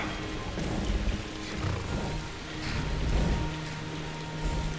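Steady rainfall patters across a video game scene, a broad even hiss of drops that stays fairly close and continuous, with faint low rumbles underneath and no voices.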